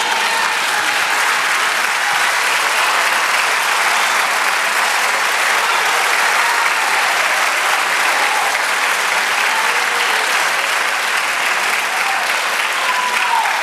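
A church congregation applauds in a large hall, a dense, loud and steady wash of clapping that holds evenly throughout.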